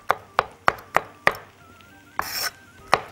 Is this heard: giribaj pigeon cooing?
no